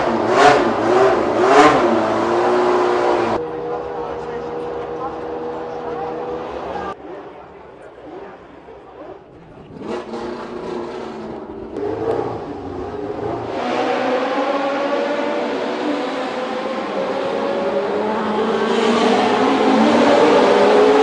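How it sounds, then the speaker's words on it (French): A 1972 Matra Formula 1 car driven by Chris Amon at the Monaco historic Grand Prix revs its engine in bursts, loud high-pitched blips and a rising wail, with a crowd and announcer talking around it. "une illustre voiture française, la Matra de Chris Amon"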